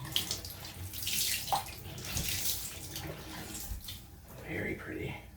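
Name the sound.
water squeezed out of wet yarn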